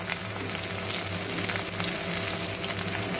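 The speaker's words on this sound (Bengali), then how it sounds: "এর মধ্যে দিয়ে দিলাম রসুন কুচি, সাথে দিয়ে দিচ্ছি পেঁয়াজ কুচি" Chopped garlic and onion fry in fish oil in a pan, giving a steady, close, dense sizzle that holds for the whole stretch with no talking.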